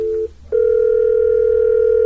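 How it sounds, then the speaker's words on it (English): A desk telephone ringing for a 911 emergency call, a steady electronic tone that stops briefly and then resumes loud and sustained, heard up close with no talk. "So 911 over here is ringing on this phone, which it should be"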